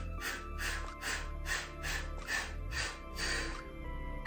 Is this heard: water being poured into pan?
no